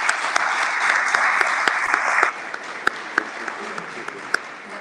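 An audience applauds a veteran artist from Vicenza at a literary event, starting as a full, steady wave of clapping that thins after a couple of seconds into scattered, separate claps.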